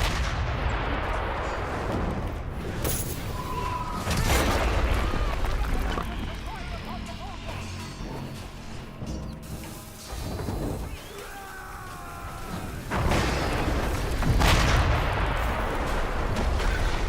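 Bombard cannon fire in the Chivalry 2 video game, with heavy booming blasts over loud continuous battle noise, shouting voices and clashing, dense and chaotic throughout.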